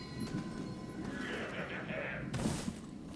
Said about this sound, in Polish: Czego rżysz, baranie?